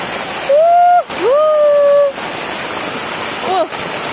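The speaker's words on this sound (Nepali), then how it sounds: "देख्नु हो बाढी यस्तो छ" Flood water in Dharan, Nepal, rushes and roars steadily throughout, with a voice speaking briefly over it a few times.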